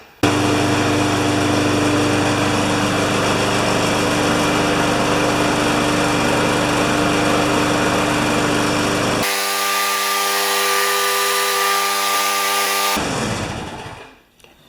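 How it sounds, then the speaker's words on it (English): A small gasoline engine on an old Briggs lawn mower runs steadily and loudly, its pitch shifting partway through before it winds down and cuts off near the end. "this is the lawnmower that I got running"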